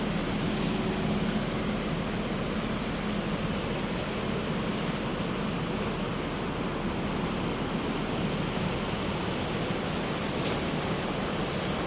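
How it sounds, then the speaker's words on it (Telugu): Water from a small channel diverted off the Sindhu river near Pahalgam rushes continuously, a broad steady roar with no pauses and no voices. "నది నుంచి ఇలా చిన్న కాలువ డైవర్ట్ చేసి చాలా బ్యూటిఫుల్గా చేస్తారండి"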